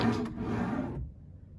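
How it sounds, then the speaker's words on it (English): A wooden drawer slides shut on a hotel room nightstand at a Disney resort, making one smooth, close rumble that ends in a soft stop. "they close nice. So 3 drawers."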